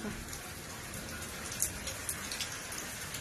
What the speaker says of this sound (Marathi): इकडं पाऊस छान पाऊस आलाय